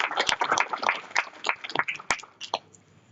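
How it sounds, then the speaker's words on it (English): Audience clapping for a volunteer at a health information exchange workshop, a short burst of scattered, uneven hand claps that thin out and fade over a few seconds. "Let's clap for Catherine."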